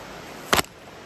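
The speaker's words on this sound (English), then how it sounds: "What you just heard was Sam ceremoniously crushing the beer can for the camera" A beer can is crushed by hand at a riverside campsite in a mountain gorge. It makes a single short, sharp crunch close by, standing alone against a quiet background.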